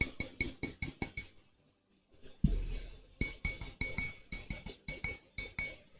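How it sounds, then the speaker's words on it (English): A glass is tapped for ASMR in quick runs of bright, ringing clinks, close and crisp, broken by a short pause and a soft rustle before the tapping resumes in steady rhythm. "And then I also have a glass that makes this really nice sound."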